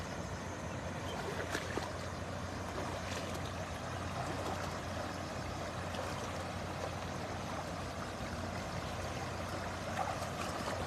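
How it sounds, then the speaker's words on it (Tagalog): A strong river current rushes steadily during net fishing, a dense, unbroken roar of water that stays loud and even from start to finish. "malakas ang agos"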